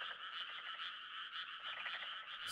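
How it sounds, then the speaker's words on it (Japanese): Frog croaking ambience in the Harvest Moon farming video game, with a dense, continuous chorus of rapid croaks that stays steady and loud with no speech. "なんでこんな虫はさておきカエルの音するんだろうな"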